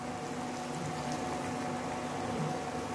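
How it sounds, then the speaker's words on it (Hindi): Water goes into a hot pan of soybean and papaya curry, a steady close hiss and bubbling sizzle that stays even throughout without any talk. "इसके लिए हल्का सा पानी डाल के हम लोग अच्छे से इसको मिला लेंगे"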